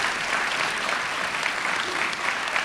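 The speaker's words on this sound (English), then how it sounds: "Let's give them another round of applause for all you're doing, Greg." Steady round of applause from an audience at an evening swimming foundation event, sustained dense clapping throughout with no pauses, fairly close and even in loudness.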